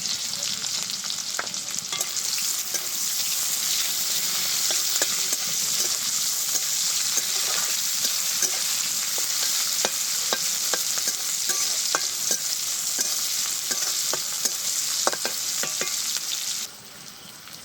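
Chopped onion sizzles steadily in a hot pan, with a continuous loud frying hiss punctuated by scraping clicks of stirring, all without talk, before the sizzle abruptly drops away near the end.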